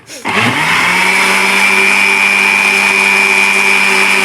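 A kitchen blender whirs steadily at high speed, blending milk and mango into juice: a loud motor spin-up in the first half second, then a constant droning whine holding to the end, no talk.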